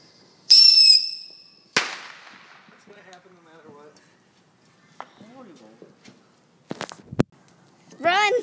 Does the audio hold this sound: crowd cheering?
no